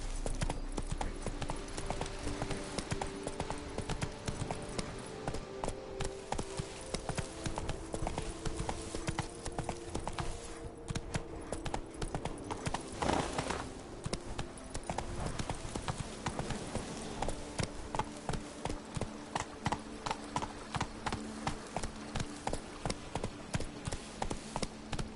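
Steady clip-clop of the horse Roach's hooves galloping in a video game, a loud continuous rhythmic pounding that carries on throughout.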